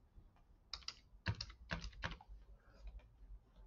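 Quick bursts of clicking keystrokes on a computer keyboard at a point-of-sale system as a refund reason is entered, fairly close with short pauses between bursts.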